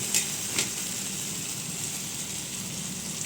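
Whisked sour yogurt is added to a masala frying in a pan, producing a steady sizzle with a couple of brief splatter bursts near the start, then an even frying hiss.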